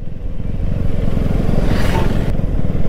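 KTM Duke 250 motorcycle engine on a test ride, a loud steady close-up rumble with a throbbing pulse and rising throttle, heard throughout with wind noise and no talk.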